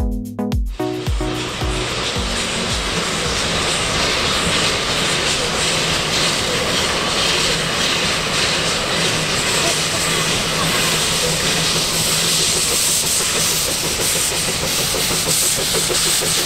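Puffing Billy, a heritage narrow-gauge steam train, pulling away with a loud, continuous rush of steam and hiss over rumbling running gear, an opening chuff at the start giving way to a sustained roar.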